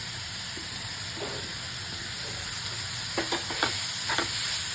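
Onions and coriander sizzle in a hot pan under a steady frying hiss, with a few soft scrapes and taps of a spoon stirring them near the end.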